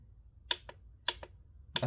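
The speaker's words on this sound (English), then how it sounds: "is more or less the automatic shut off." A torque wrench clicks as it reaches its automatic shut-off while spark plugs are tightened on a Saab 9-3, with three sharp double clicks, each a quick pair, spaced about half a second apart in a quiet garage.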